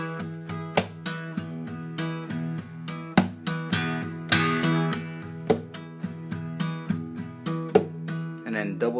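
Acoustic guitar played slowly in a percussive pattern of body smacks, hammer-ons and taps, sharp slapped hits cutting through sustained ringing chords in a repeating rhythm, heard close and alone.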